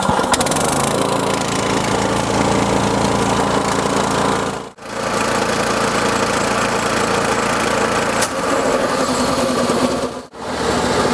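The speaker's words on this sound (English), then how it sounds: "So now the engine's idling, the pump is running at a reduced speed" A small gas engine drones loudly and steadily at idle alongside an air compressor pump running at reduced speed, with two brief dropouts in the sound; no one speaks.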